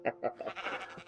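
Sheep bleating in the video game Minecraft: two short nasal bleats, then a quicker run of softer bleats, close and clear with no talk over them.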